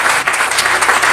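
A church congregation applauding and cheering for Jesus, a brief burst of dense clapping from many hands that sounds loud and close.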